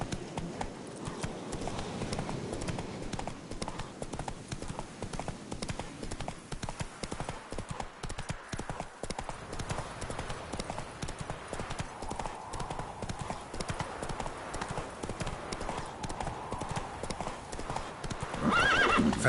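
Roach, the horse in The Witcher 3, galloping with dense, continuous hoofbeats close up, plus a neigh partway through and brief talk over a steady layer of game ambience.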